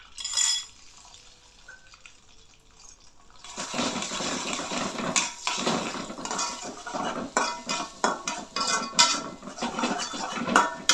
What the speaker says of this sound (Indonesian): Kocok lepas terlebih dahulu telur 1 biji, lalu tuang, diorak-arik.